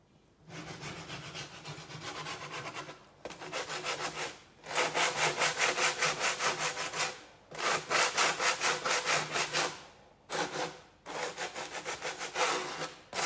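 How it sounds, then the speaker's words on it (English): Someone sands the edges of a wooden craft piece by hand: close, rhythmic rasping strokes come in several runs of a few seconds each, with brief pauses between them and no talking. "Let's sand the edges."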